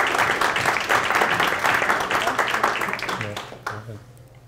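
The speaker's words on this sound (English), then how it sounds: "please help me to welcome them with an applause" An audience at a mathematics sculpture lecture claps to welcome the speakers, a dense spatter of hands under a speaking voice, fading toward the end as talking takes over.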